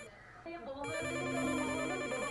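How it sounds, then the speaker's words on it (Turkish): A telephone bell rings in a domestic scene from a Turkish TV film, a steady electronic ring that swells after a quiet start and continues loud over background music. "Anne, şu telefona bakıver bir."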